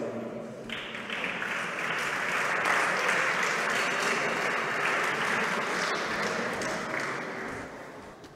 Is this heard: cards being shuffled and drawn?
no